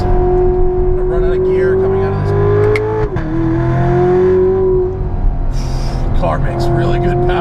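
A 600 HP Magnuson-supercharged C7 Corvette Z51 with a GM 8-speed automatic drones loudly under hard acceleration, its engine note briefly dipping and recovering midway as it shifts gear.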